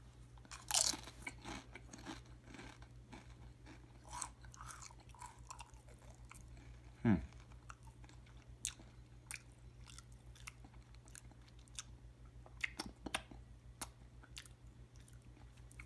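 A Pitch Black poppin' jalapeno tortilla chip is crunched and chewed up close, with sparse, irregular crisp bites spread over a quiet, steady low hum and no talking.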